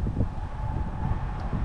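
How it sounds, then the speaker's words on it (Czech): Strong, roaring wind buffeting a lakeside fishing spot in stormy weather, a steady low rumble of gusts across the microphone with no voices. "teď to můžete i slyšet, jak fouká,"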